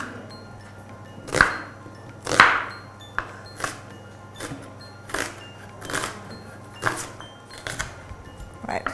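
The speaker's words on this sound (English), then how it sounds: "I'm going to chop my onion into small pieces" A knife chops an onion into small pieces on a board, giving sharp, distinct cuts at an uneven pace over a low background hum.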